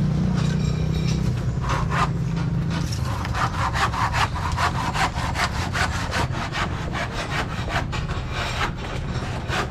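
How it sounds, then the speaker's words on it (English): Hand saw cutting off excess wood while building a bamboo staircase, making a loud rhythmic rasp of repeated back-and-forth strokes that quickens after a slower start, heard close with no talk. "sawing off this extra wood."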